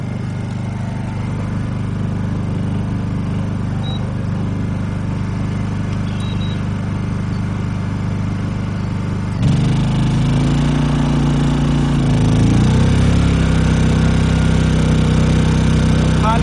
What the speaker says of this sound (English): Start with the Honda since it's already running.